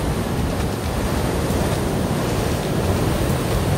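Ocean waves at a splash zone on the Porto coast, a steady loud roar of surf mixed with wind noise on the microphone, continuous with no clear breaks or voices.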